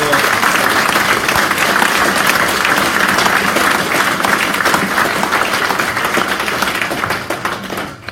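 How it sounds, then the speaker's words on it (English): An audience at a live motorsport talk event at Cadwell Park applauds, a dense, sustained burst of clapping that holds steady for several seconds before tapering off at the end. "Just give Rob a big round of applause."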